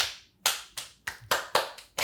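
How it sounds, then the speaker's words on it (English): Slow, deliberate hand clapping from a single person, about seven sharp claps spaced roughly a third of a second apart, close and fairly quiet, with no talk over them. "Slow clap worthy?"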